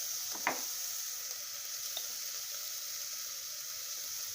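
Spices sizzling in hot oil for a lentil dish, a faint, steady hiss with a brief stirring clatter near the start, quiet and alone.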